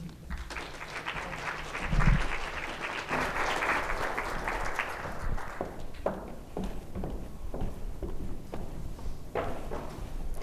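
Audience applause at a corporate fireside chat event in Denver, a dense sustained clapping crowd that thins into scattered claps toward the end.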